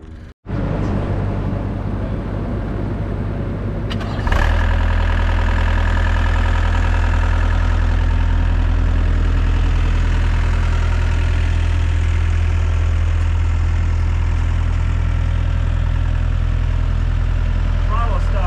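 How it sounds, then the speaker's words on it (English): A skid steer engine with a stuck throttle starts with a short burst, then settles into a loud, heavy, continuous running drone after about four seconds, close by with no pause. "Throttle stuck."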